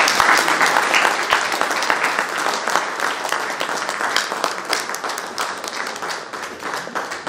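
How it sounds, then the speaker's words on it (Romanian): Audience applause at a book launch in Bacău, Romania: dense, sustained clapping from a crowd filling the room at steady loudness for about seven seconds, with no voice over it. "Aplauze!"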